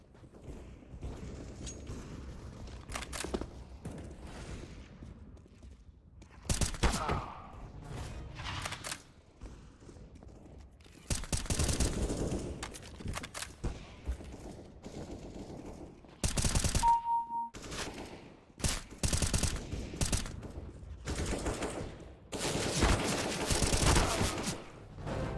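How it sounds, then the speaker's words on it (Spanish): Bursts of gunfire from a professional Counter-Strike match, rapid automatic volleys and single shots in irregular clusters separated by brief quiet gaps, fairly loud with no talk over them. "Están recagando a tiros."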